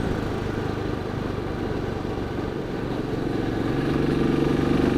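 A 2017 Royal Enfield 500 Classic in Battle Green rides along, its single-cylinder engine thumping steadily at moderate volume, the note swelling toward the end after a gear change.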